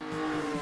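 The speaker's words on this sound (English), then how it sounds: "Here comes the red car. It's Spid, the race car." Red race car Spid drives in with a steady, sustained engine drone, fairly loud and continuous throughout, with no talking.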